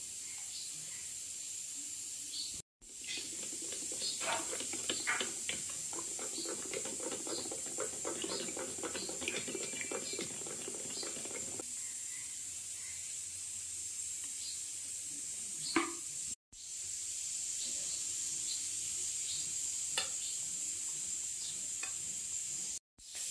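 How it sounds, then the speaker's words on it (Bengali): Yogurt thinned with a little water is whisked in a bowl, giving a run of quick, soft ticking strokes over steady background hiss, then quieter scattered taps. "যেটা আমি একটু ফেটিয়ে নেবো অল্প জল দিয়ে।"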